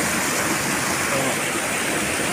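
Water flows continuously at Bulao Cold Spring in San Isidro, Talakag, Bukidnon, a dense, even rushing like a small waterfall heard up close, with no talk.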